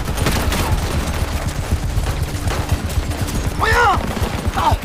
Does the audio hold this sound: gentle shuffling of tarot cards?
no